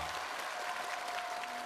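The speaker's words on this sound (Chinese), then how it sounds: "掌声欢送我" A studio audience at a television variety show applauds in a dense, even wash of clapping, heard faint and steady throughout.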